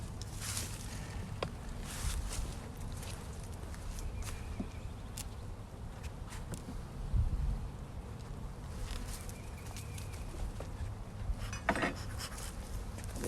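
Honey bees buzz steadily around a robbed-out hive outdoors, a constant close hum with occasional louder passes near the microphone and some handling and footstep noise.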